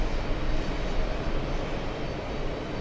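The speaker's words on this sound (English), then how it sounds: "Virgin 47 flying in from Heathrow." A Virgin Atlantic airliner arriving at JFK from Heathrow makes a loud, continuous broadband engine roar that stays steady and close with no pauses or voices.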